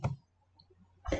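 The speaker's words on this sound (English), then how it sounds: "and press enter" The Enter key on a computer keyboard is pressed, giving a pair of faint, sharp clicks about a second apart in a quiet room.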